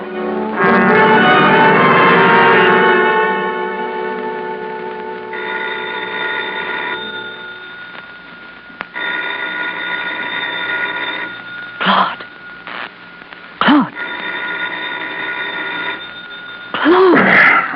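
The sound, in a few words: telephone ringing at dawn, radio drama effect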